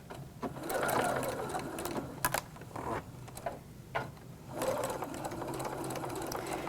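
A sewing machine stitches a purse with short back-and-forth backstitching bursts, its steady mechanical whir rising and pausing in close, moderately loud runs with brief stops between passes.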